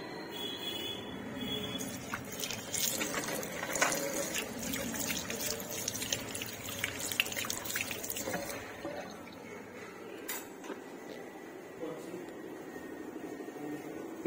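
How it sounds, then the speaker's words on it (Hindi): Hands are washed under a running tap, giving a steady splashing trickle of water that continues throughout with occasional louder splashes and faint background voices. "मैं हाथ धोता हूँ"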